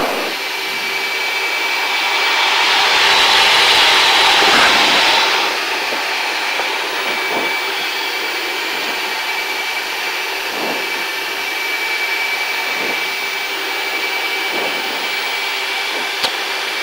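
A Blue Angels jet aircraft taxiing gives off a steady, loud engine whine and broadband roar, swelling briefly early on and then holding level, with no talking.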